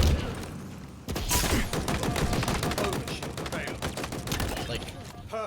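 Rapid bursts of pistol carbine fire from the video game Halo Infinite crack out after a brief quiet second, shots following one another in a steady, fairly quick rhythm, loud and close, with a voice talking faintly underneath.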